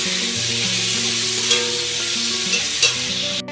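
Loud, continuous sizzle of potatoes frying in hot oil, with occasional stirring clinks over a low steady hum.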